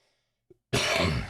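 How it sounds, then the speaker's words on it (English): A single sharp cough from a recent ex-smoker bursts out after a moment of silence, loud and close, preceded by a tiny intake of breath. "Excuse my coughing a little bit"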